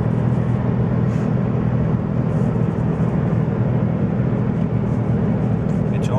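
Steady, loud low drone of a car engine and road noise heard from inside the cabin while driving downhill, holding a constant level with no distinct surge.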